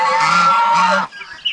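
A loud, close goose honk, one long nasal call about a second in length, followed by quieter squawks and a short sharp note.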